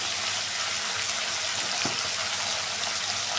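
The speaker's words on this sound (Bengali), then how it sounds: "ঝিঙে আর আলুটাকে আমি তেলে দিয়ে দিলাম, দিয়ে ভালো করে ভেজে নেব" Ridge gourd and potato pieces fry in hot oil, giving a steady, dense hiss that stays even throughout with one brief bubbling pop near the middle.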